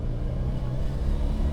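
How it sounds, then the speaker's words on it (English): Turbocharged classic Mini Cooper engine building boost, a steady low rumbling drone with a slight rising throb, loud and close throughout a short burst, no voices. "I'm going to build some heat up in this turbo, and then we're going to nail it"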